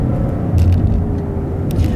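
A tuned 2015 Maserati Ghibli S Q4 engine rumbling steadily at low pitch from inside the cabin while driving, a continuous loud drone with slight swells, no talking.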